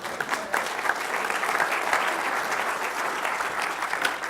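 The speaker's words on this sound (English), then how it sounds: "Give these guys a big round of applause, all right?" A large audience gives a sustained round of applause at a talk, dense, even clapping that stays steady from start to end with no voices over it.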